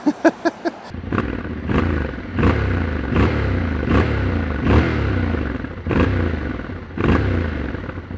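A motorcycle engine in sport mode burbles nearby with sharp, regular exhaust pops roughly every second, preceded by a few quick rapid blips.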